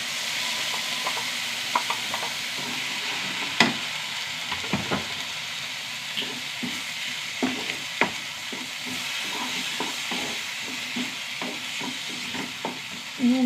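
Ground tomato fries in a pan with ginger, garlic and green chili, giving a soft continuous sizzle broken by scattered scrapes and taps of a spoon stirring.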